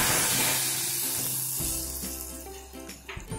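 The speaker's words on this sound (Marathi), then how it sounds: "ह्यामध्ये मी 3 लवंग घालते, मिरची पावडर, आणि मस्त आपण तडका देऊया" Tadka of three cloves and chili powder tipped into hot ghee for pineapple amti, crackling and sizzling close by, with some clinks and stirring noises near the end.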